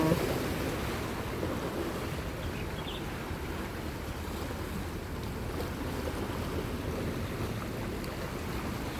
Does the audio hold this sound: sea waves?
yes